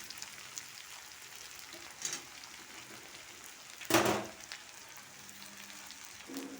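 Tomato and beans fry quietly in a pan, a faint continuous sizzle with a couple of brief louder crackles and a stirring scrape.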